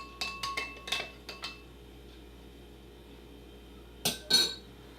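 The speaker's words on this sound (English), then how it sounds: "Next, we'll just give it a little stir." A spoon clinks against a glass while a Cuba Libre is stirred, a quick run of light, bright chinks and taps close up, then a short pause and two more clinks near the end, with no talk.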